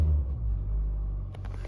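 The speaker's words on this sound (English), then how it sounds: "let's give it some gas." A car engine on a cold winter startup gets a short burst of gas, a deep loud rumbling rev that settles back, with a brief faint high click near the end.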